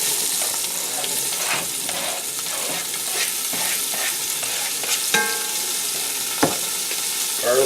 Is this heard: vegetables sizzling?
yes